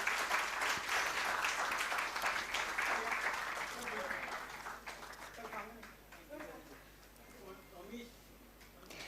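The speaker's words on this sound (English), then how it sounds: "Can we have a big round of applause for the two gentlemen?" An audience applauds at a company stock listing ceremony, the clapping starting loud and dense and then thinning out and fading, while a voice speaks over the tail end.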